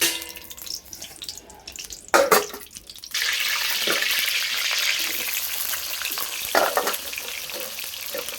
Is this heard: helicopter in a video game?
no